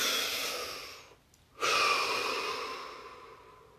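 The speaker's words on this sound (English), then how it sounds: "Deep breath." A long, deep breath drawn in and let out during a guided relaxation session, a steady airy rush followed by a short pause and a second, stronger exhale that slowly fades, close and alone with no talking.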